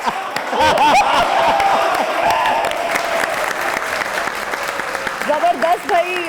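A studio audience at a television comedy talk show breaks into loud, dense applause that swells and holds for several seconds, with voices speaking over the clapping as it gradually eases.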